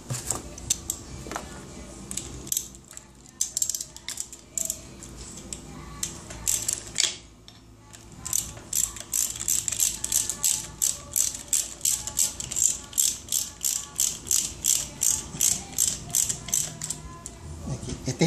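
A ratchet wrench tightening bolts while a Toyota 2E 1.3L engine is assembled, clicking in fast, steady bursts of sharp metallic ticks with short pauses between strokes, close and clear.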